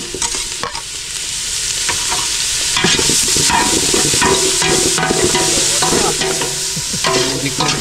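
Onion and garlic sauté in a hot pan, a loud, close, continuous sizzle with scraping stirs and occasional clatters of a spatula against the metal.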